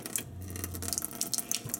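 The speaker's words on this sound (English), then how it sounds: "purified water spigot here" Water runs steadily from a purified water spigot into an RV kitchen sink, a soft hissing splash that continues throughout.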